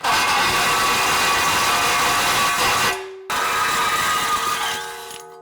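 A hole saw on a drill cuts through a metal crossmember of a 1955 Chevy during a NASCAR V8 swap: loud, continuous grinding whine that stops briefly, then starts again and tapers off near the end.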